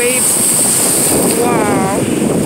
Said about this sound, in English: Oh, this wind.